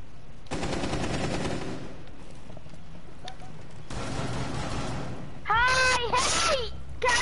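Video game gunfire rattles in sustained automatic bursts, loud and close, with short gaps between them and a voice chattering near the end.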